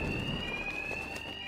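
A steady, high-pitched alarm rings without a break inside a Batman Arkham Knight game scene, running for the whole moment over a low rumble of background noise and no voices.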